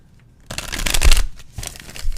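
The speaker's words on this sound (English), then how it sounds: "That is a good shuffling deck." A tarot card deck being shuffled, a quiet start giving way to close, steady riffling bursts of cards that rise and fall for about a second and a half, with no voices.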